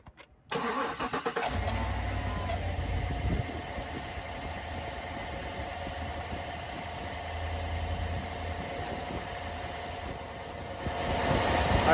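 The 6.2 engine of a 2015 GMC Yukon Denali cranks and catches with a sudden roar, then settles into a steady low idle that runs on unchanged, rising slightly at the end.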